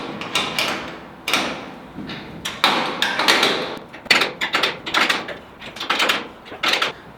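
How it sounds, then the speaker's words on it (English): A wrench snugs up a nut on a trailer gate lift assist, giving a close series of quick metallic ratcheting clicks and scrapes in irregular bursts. "Take our wrench, we're gonna snug this nut up"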